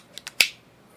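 Pistol slide press check done with the support hand's index finger over the muzzle: a couple of faint light clicks followed by one sharper metallic snap, close and alone.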